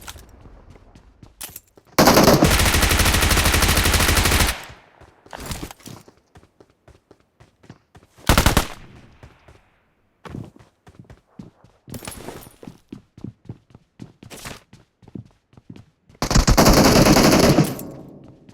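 Rapid machine gun bursts from a video game, several long sustained volleys of automatic fire plus shorter bursts and single shots, loud and close, separated by quieter clicks and footstep-like taps.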